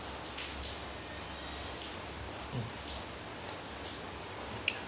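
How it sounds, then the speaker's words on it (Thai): Rain falls steadily and softly on a surface, a faint continuous hiss with a few scattered drop taps, no voices. "ฝนก็ตกทุกวันครับพี่น้องฝนตกทุกวันจริงๆเลยบางทีก็ทำคลิปไปก็มีเสียงฝนนะพี่น้อง"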